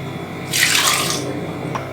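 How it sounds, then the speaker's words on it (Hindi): Three cups of water poured into a pot of chopped pumpkin, beetroot, tomato and carrot, a brief close splashing gush that fades into a faint trickle. "और इसमें हम डालेंगे 3 कप पानी।"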